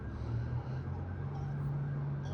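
Sirens of emergency vehicles wail down the block, a faint steady tone over low road rumble and distant traffic.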